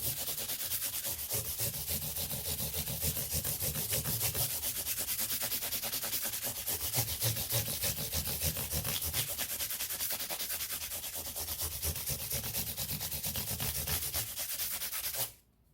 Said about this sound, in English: we're going to begin the polishing process. And we want to start here with 400 grit sandpaper